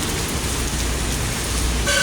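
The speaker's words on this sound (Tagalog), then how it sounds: "So medyo malakas pa rin yung ulan, walang tigil, walang humpay." Steady, dense heavy rain hisses loudly throughout near Trinoma and SM North, by a new MRT station under construction, with a brief tonal beep at the very end.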